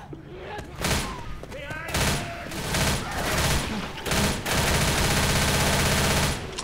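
Rapid bursts of gunfire from the video game Left 4 Dead crackle in repeated loud volleys, interleaved with brief pauses, along with other game sounds.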